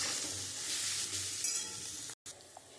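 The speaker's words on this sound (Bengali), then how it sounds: "আমি খুব ভালো করে মশলা দিয়ে আমি এবারে কষিয়ে নেব" Spices fry in hot oil in a pan while being stirred for fish bharta, with steady sizzling and scraping, close and continuous apart from one brief break near the end.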